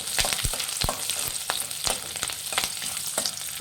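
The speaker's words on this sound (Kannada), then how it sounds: "ಎಣ್ಣೆ ಕಾಯ್ದಿದೆ ಮೆಣಸಿನ್ಕಾಯಿ ಮತ್ತು ಬೆಳ್ಳುಳ್ಳಿ ಒಟ್ಟಿಗೆ ಹಾಕ್ಕೊಳ್ಳಿ" Green chillies and garlic frying together in hot oil, a loud dense crackling sizzle broken by repeated spatter pops and scraping stirs, close up with no voices.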